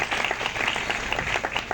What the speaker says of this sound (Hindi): इन सब के लिए ज़ोरदार तालियां बजाई हैं